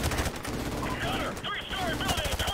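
Rapid bursts of automatic gunfire crackle through a Call of Duty Modern Warfare Remastered firefight, dense and continuous over layered battle effects.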